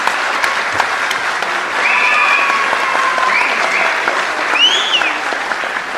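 An audience applauding at a Delhi Tamil Sangam felicitation ceremony, a dense, sustained wash of clapping that stays fairly even throughout, with a few faint whistle-like tones over it.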